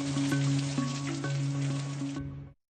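Heavy rain mixed with hail pours down steadily in Tatvan, Bitlis, flooding the streets, a dense continuous wash that stays loud for a few seconds and then cuts off abruptly.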